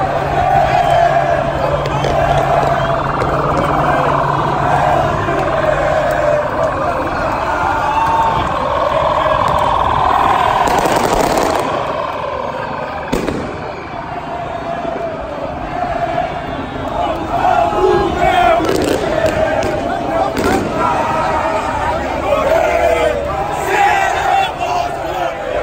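Internacional football fans at a Copa Libertadores match against Flamengo, a dense crowd chanting and roaring around a person walking among them. The noise is loud and continuous, with surges of shouting and voices nearby.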